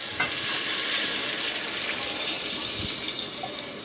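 Water poured into a pan of frying onions and garam masala for chicken biryani, a loud steady hiss and sizzle with splashing close by, no voices.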